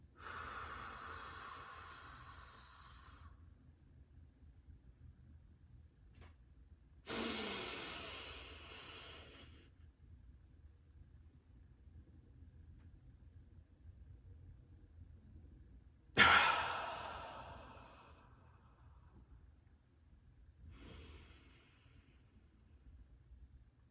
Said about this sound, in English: I'm just going to do 2 examples of doing a wave breath